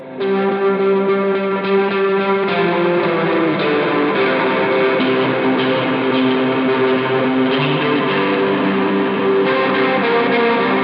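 A distorted electric guitar holds sustained chords through a shimmering chorus pedal effect on a doomgaze pedalboard, thick and lo-fi, played continuously without any talking.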